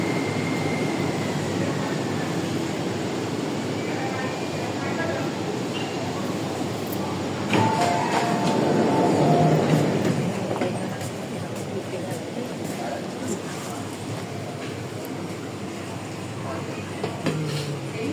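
A Hong Kong MTR Tuen Ma line train rumbles and hums steadily at a platform, swelling briefly as it moves, with a recorded voice announcement over the low mechanical drone.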